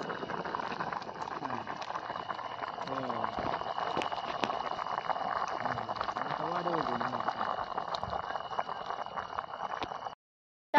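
Vajdi, mutton tripe, simmering in a pot for a spicy village rassa, a steady bubbling boil running evenly throughout under soft voices, then cutting off abruptly near the end.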